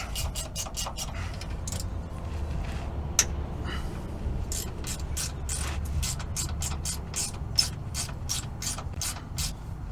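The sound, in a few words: 10 mm socket ratchet removing retaining brackets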